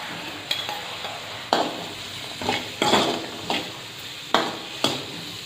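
Mashed peas being stirred into a cutlet mixture in a pan, heard as about eight distinct scraping, scooping strokes at an uneven rhythm over a faint background hiss, close by with no talking.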